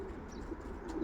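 Soft, low cooing of racing pigeons in a loft, a steady faint murmur of several birds with no talk.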